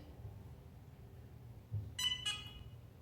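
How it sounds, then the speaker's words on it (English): Two quick electronic beeps in close succession from a Tria laser hair removal device, heard over a quiet low hum. "And then when there's 2 beeps, that was pretty quick, I move to the next spot."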